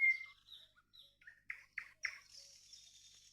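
A nightingale sings at dawn on an early June morning, delivering a clear solo phrase of varied whistles, short rapid chirps and a sustained high trill, close and bright against a quiet background.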